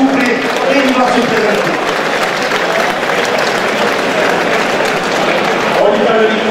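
Audience at a French Easter cattle auction applauds steadily after a sale, a dense crowd clapping that holds at an even, fairly loud level throughout.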